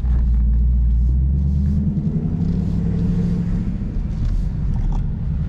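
A 2019 Ford Mustang Bullitt's exhaust burbles and rumbles at idle, a loud, low, throbbing note heard up close and continuously with no voices.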